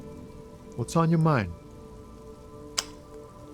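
Steady rain from the video game Disco Elysium patters as a constant background wash, with a short spoken line and a sharp click rising briefly above it.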